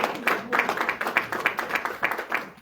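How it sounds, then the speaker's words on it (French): Audience applause from a crowd gathered at an event promoting a concert at the Olympia, a dense run of overlapping hand claps that rises and falls in steady waves, fairly close and with no voices on top. "on peut applaudir Nicolas"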